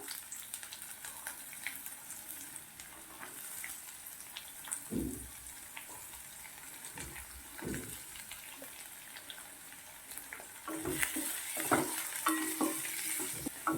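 Chopped onion sizzles steadily in oil in a pan with occasional stirring scrapes, growing a bit louder and busier toward the end; no voices.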